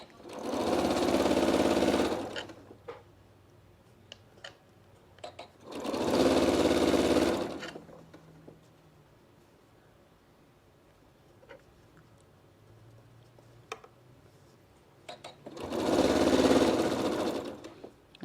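A sewing machine stitches a quarter-inch seam on a fabric elephant in three bursts of steady rapid whirring, each two to three seconds long, separated by quiet pauses with faint handling clicks.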